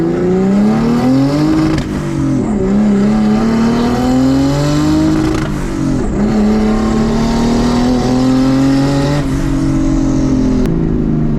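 A turbocharged BMW E36 320i engine at 1.1 bar boost pulls hard and loud, its pitch climbing through several gears with brief dips at each shift, heard from inside.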